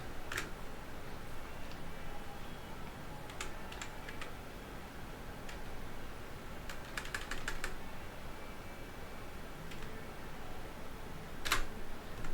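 Sparse keystrokes on a computer keyboard while Linux terminal commands are entered to install a scanner driver, with single taps and short bursts of several clicks over a steady background hiss.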